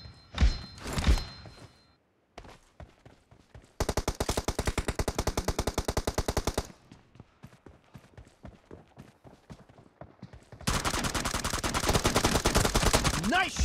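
An M416 rifle fires in a video game in rapid automatic bursts, loud and close, with the gaps between bursts filled by scattered single shots and other game sounds.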